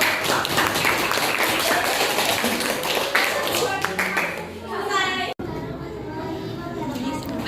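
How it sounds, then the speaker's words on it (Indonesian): A class audience at a grade 9 school presentation claps for a presenter, brisk scattered handclaps mixed with children's chatter that fade out partway, leaving murmuring voices and talk. "Beri aplaus Bapak yang maju."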